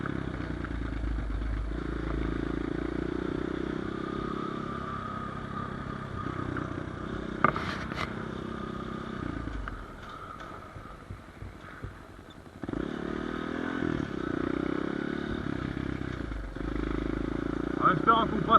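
A 250cc Hurricane V2 Nitro Motors dirt bike engine revs and drones steadily up close, easing off briefly mid-ride before opening up again, with a voice speaking over it.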